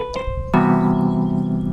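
A sustained Lydian chord rings out on a keyboard after a brief soft note, its stacked tones holding steady and fairly loud with no talking.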